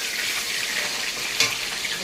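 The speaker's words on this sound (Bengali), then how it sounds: "তেল আমার গরম হয়ে গেছে, আমি মাছটা ভেজে নিচ্ছি" A catla fish head fries in hot oil with a steady, close sizzle and one brief louder crackle partway through. No voices are heard.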